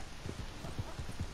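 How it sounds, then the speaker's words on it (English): Horse hooves clop at a steady walking rhythm in Red Dead Redemption 2, about five soft, muffled thuds over a low ambient background, fairly quiet and close. "Stupid horse, dang it."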